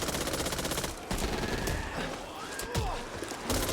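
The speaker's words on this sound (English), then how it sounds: "Firecracker." Firecracker bursts and crackling gunfire-like pops in the Back 4 Blood zombie shooter, a dense run of sharp repeated bangs with a brief lull mid-clip before the loud crackle resumes.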